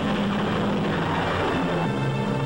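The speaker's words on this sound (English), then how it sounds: "This same airplane was called upon to assist the late General Patton maintain the astounding speed of his history-making drive through Europe." A WWII-era military airplane's engine drones in a continuous, steady roar with no pauses and no voices.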